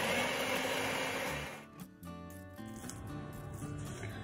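A kitchen blender grinds zucchini, onion and garlic, first a loud dense whir, then a lower, lumpier churning as the motor labors through the vegetables, close and continuous with no talk.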